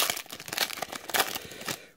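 A 2018 Prestige football card pack wrapper crinkles and rips in a quick two-second run of close, crisp bursts that tail off at the end, with no speech over it.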